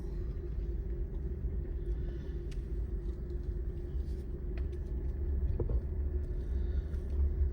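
A Jeep's engine rumbles steadily from inside the cabin while driving at a Flagstaff, Arizona campground, a low, constant drone with a faint hum and occasional small knocks.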